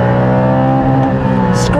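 A Porsche GT4 Gen 2 engine revving hard toward 8,000 RPM, a loud, sustained high-pitched mechanical scream with dense harmonics, close and continuous.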